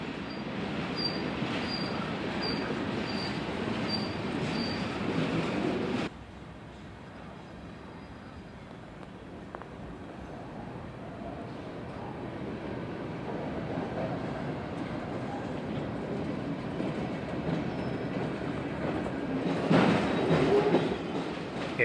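A long CF&E freight of 119 cars hauled by GE Dash 8 locomotives rolls past steadily, a broad continuous rumble of wagons and wheels that eases midway and swells again toward the end.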